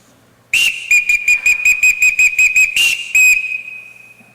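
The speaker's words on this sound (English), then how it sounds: "Everyone in this house answers to a whistle," A loud, shrill whistle blown in a rapid rhythmic series of short blasts, then two longer blasts, fading out after.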